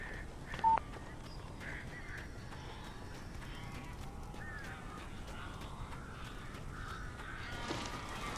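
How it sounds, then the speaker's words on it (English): Crows cawing in the Alan Wake video game: a few sharp caws over a steady low ambient hum, moderately faint, with no talk. "These birds are weird."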